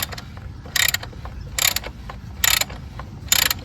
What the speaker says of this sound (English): we're going to take our socket and we're just going to kind of snug it up